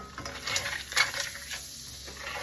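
Butter cooking in a pan over reduced, near medium-low heat as the base for a vodka sauce, with soft sizzle, light clinks and scrapes of utensils against the pan, close up and fairly quiet, no talking.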